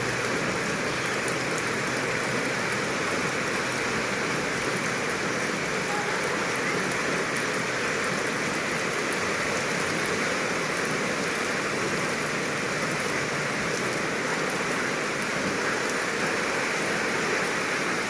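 Steady, dense rain falls throughout, a constant hiss of drops hitting surfaces with no breaks and no voices.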